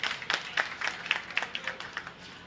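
A crowd at a political campaign event gives a short burst of applause, a quick run of distinct claps that starts strong and fades within a couple of seconds.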